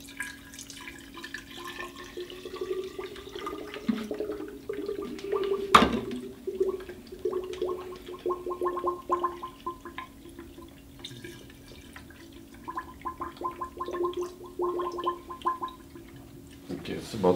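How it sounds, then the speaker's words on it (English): Water-cooling liquid is poured into a PC water-cooling reservoir, giving a close, steady trickle with dripping and gurgling. There is a sharp knock near the middle, and a voice is heard at times. "Let's add a little bit water. A little bit liquid."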